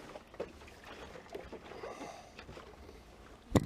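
Old gasoline pours out of a Yamaha XT 225 motorcycle fuel tank in a steady, watery trickle and splash that lasts throughout, ending in a sharper knock near the close.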